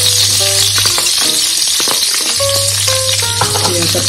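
Garlic frying in the hot oil left from frying shrimp, a loud, steady close sizzle with stirring scrapes and some background tones running through it.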